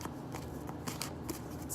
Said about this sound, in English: I shuffle my cards